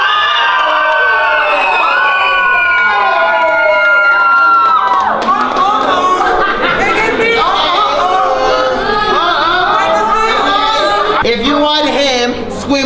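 An audience at a talent show in Orlando, Florida screams, whoops and cheers loudly for a contestant, a sustained excited roar of many voices close by, with a host talking over it.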